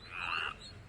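A frog croaks once, a brief close croak lasting under a second, with nothing else heard around it.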